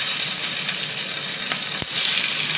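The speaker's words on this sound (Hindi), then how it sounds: "अब मैं इसे फ्राई कर दूँगी। देखिए साउंड इस तरीके का आना चाहिए।" Tibetan dumplings frying in hot oil over a medium flame, a dense, steady close-up sizzle with a few faint pops and a brief stir partway through.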